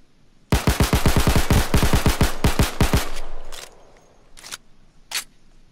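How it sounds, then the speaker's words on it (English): FN Five-seveN pistol fired as fast as possible in the video game Payday 2: a loud, rapid burst of about fifteen sharp shots over two and a half seconds, then a few scattered distant clatters as it dies away. "this time I will try to fire this thing as fast as I can"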